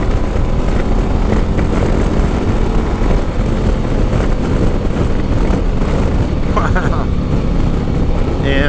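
Harley-Davidson CVO Street Glide motorcycle cruising in third gear at around 80 on a group ride, a loud steady engine drone with heavy wind rush throughout, with a rider talking over it.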